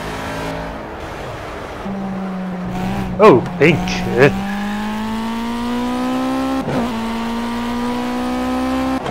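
A pink project car in the Project Cars racing game, heard from outside: a steady engine drone that slowly climbs in pitch, with a short burst of louder noises early on and brief speech over it.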